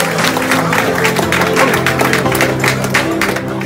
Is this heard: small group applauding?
yes